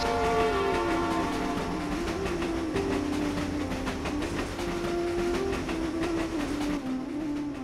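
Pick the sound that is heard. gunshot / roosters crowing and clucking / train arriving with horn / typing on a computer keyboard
train arriving with horn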